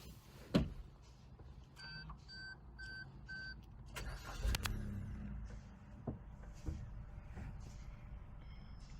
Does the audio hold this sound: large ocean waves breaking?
no